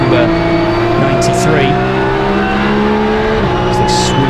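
Porsche Cup race cars at the Zolder circuit swoop through turn two, engines droning loud and close with shifting pitch and a gear change, under a commentator's voice.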